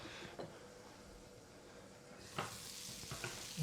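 Butter sizzles softly as it melts in a waffle iron, a faint steady crackle with a few sharper pops toward the end.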